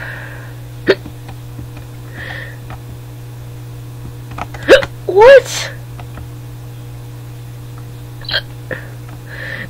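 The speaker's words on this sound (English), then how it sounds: "stop hiccuping, it's messing me up" Hiccups from a man playing the game Free Rider, several sharp abrupt vocal jolts spaced irregularly across the clip, close and loud against a steady mains hum, with a brief spoken word in between.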